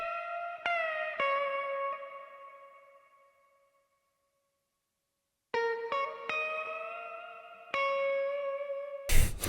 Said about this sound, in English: laid down a second guitar which perfectly complements the first guitar that I've already laid down.